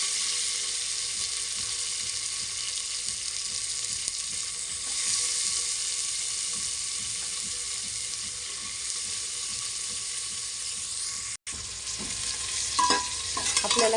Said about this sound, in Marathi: आपल्याला कांदा हा चांगला हलवून घ्यायचा आहे लाल होईपर्यंत